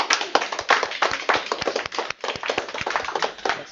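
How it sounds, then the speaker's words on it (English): A small meetup audience at an Edinburgh mobile developers' gathering claps for a speaker, a close, sparse patter of individual hand claps with distinct sharp slaps rather than a dense roar. "So a round of applause for Johnny."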